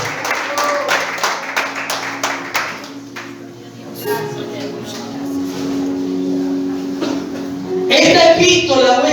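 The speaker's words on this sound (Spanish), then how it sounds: "Dale un aplauso a la palabra de Dios. Apláudale." A church congregation claps in a loud burst at first, fading under sustained organ-like tones and murmuring voices, then rising again near the end.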